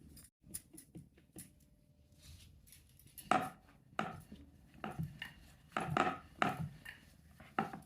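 Wheat dough for madali being rolled out on a board, with soft irregular rolling-pin knocks and thumps, a few sharper taps near the end, fairly close and quiet, no talking.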